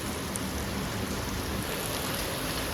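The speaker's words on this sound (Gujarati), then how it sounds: "મસ્ત વરસાદ આવે છે." Heavy monsoon rain pouring down steadily, a dense, even roar of falling water close by with no break and no voices.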